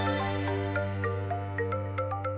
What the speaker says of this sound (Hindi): तुम्हारा फोन बज रहा